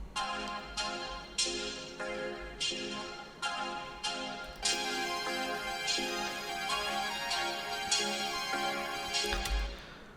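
A vocoder turns a spoken voice into robotic synth chords for a remake: rhythmic, harmonically rich bursts follow the syllables over sustained chord tones, loud and up close with no plain talk.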